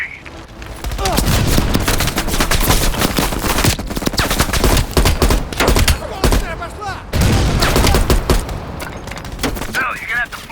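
Sustained heavy machine gun fire in a Call of Duty Black Ops Cold War battle, loud dense bursts rolling almost continuously with brief gaps, explosions and a voice breaking in over the din.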